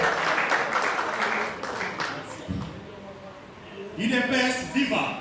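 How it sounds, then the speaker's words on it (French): Crowd applause at a political party section meeting in Pretoria, full and steady at first, then tapering off, with voices calling out over it toward the end. "On peut applaudir."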